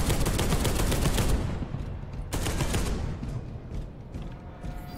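A missile launcher fires in Space Hulk: Deathwing, giving a loud blast followed by a second whooshing burst and a dwindling rumble.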